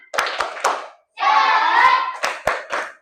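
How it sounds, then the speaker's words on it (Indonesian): Classroom group doing a rhythmic spirit clap: three sharp claps, a burst of children chanting together, then more crisp claps in a set pattern, all close and loud. "Tepuk semangat!"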